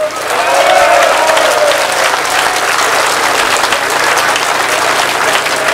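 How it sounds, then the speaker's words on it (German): A large crowd at an outdoor PEGIDA rally in Dresden gives sustained, loud applause that rolls on evenly for several seconds, dense and continuous, with faint voices mixed in. "Bei denen bedanken wir uns jetzt nochmal kurz mit einem riesen Applaus."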